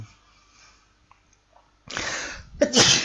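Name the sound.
sneeze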